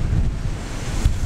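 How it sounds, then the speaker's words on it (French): Strong wind blowing outdoors at the coast, a loud steady rumble of buffeting gusts against the microphone with a surf-like wash, no talk. "Parce que comme il y a du vent"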